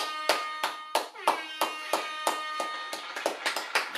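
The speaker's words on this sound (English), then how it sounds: "let's clap it up for my man" A small group claps for the hip hop legend Guru's birthday, a brief round of about a dozen sharp, close hand claps in an uneven rhythm that speeds up toward the end.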